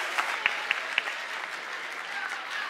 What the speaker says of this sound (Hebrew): תנו לו כפיים.